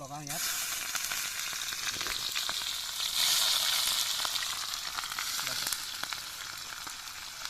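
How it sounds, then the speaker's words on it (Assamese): Sliced onions fry in oil in a wok-style pan, giving a strong continuous sizzle with occasional stirring scrapes; a brief voice speaks at the start. "ইয়াত এতিয়া তেল ঢালিম জোখত পিঁয়াজ"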